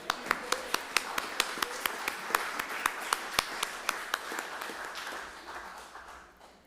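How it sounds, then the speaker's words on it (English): A congregation at a Sunday worship service claps for the musicians, a steady patter of many hands with sharp individual claps standing out, then tapering off toward the end. "So give everyone a round of applause."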